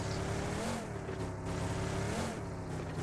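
A car engine in the BGMI mobile game revs and drones steadily for about three seconds, its pitch rising and falling slightly, loud and close with no speech over it.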